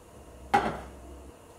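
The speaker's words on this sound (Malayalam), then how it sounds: "ഇത് കറിയാക്കാൻ വേണ്ടിയിട്ട് ഒരു പാൻ വെച്ചിട്ട് ചൂടാക്കാം" A metal pan set down onto a stovetop to heat for a tomato curry, one sharp close clatter that rings briefly and fades in a quiet kitchen.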